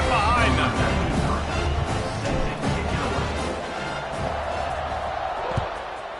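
A football stadium crowd roars before kickoff, a loud, continuous wash of cheering that eases slightly midway, with a dull thump near the end.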